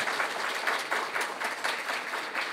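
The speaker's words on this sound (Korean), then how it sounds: "우리 패널리스트 네 분께 큰 박수 보내드리면서" Audience applause at a policy forum on the New Southern Policy, given for four panelists at the close of a session; steady, dense clapping from a seated crowd, moderately distant and even in level, with no talk.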